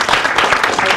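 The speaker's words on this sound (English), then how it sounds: "round of applause." Crowd applause for an organizing team at a forum, dense continuous clapping filling a brief moment, with voices mixed in.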